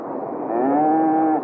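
A steer lowing in a radio drama sound effect, one long, loud, drawn-out moo that swells and holds steady for over a second, alone with no talk.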